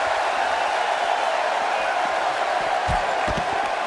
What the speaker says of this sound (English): the WWE Universe is back on their feet and cheering Daniel Bryan right now